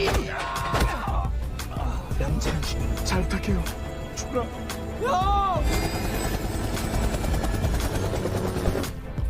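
A helicopter flying a bomb out to sea, its steady rotor roar filling the scene beneath a dramatic film soundtrack with impacts and swelling tones.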